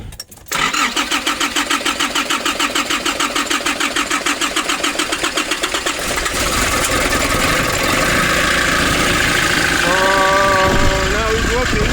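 A 2005 Nissan Urvan diesel engine, fixed after sitting unused for years, cranks with a fast rhythmic starter churn, then catches and settles into a loud, steady running rumble close by.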